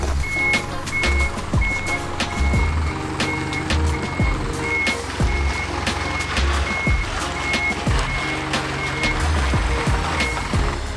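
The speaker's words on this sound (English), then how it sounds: "Is that a truck coming down a beautiful access?" Truck rolling slowly down a sloping access track on a hillside building site, its reversing beeper pulsing in a steady regular rhythm over a low engine rumble, fairly close, with no voices.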